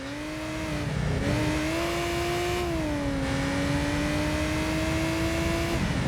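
A TVR Tuscan Speed 6 engine revs in the racing game Gran Turismo 3, a loud sustained engine note rising in pitch and holding steady with slight wavers, continuous for several seconds.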